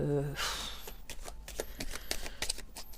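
Tarot de Marseille cards being shuffled at close range: a quick run of crisp, papery clicks and flutters after a brief voice at the start.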